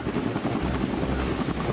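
Transport helicopter rotor and engine noise aboard the amphibious assault ship Saipan, a steady, loud, continuous thumping drone with no speech.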